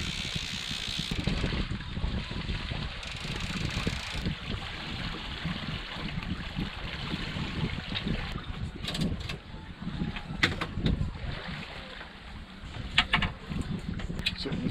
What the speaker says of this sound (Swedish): Så nu seglar vi wing on wing